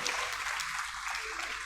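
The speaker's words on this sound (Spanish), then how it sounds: "Date un aplauso" Congregation clapping together during a church service, a steady, dense wash of applause filling the whole moment without a break.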